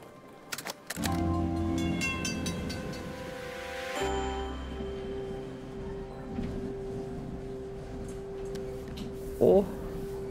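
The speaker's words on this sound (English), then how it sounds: "We're at a train station." Train station ambience from the video game Assemble With Care: a steady layered hum and drone with a lower, shifting tone that swells around four seconds, and a brief brighter burst near the end.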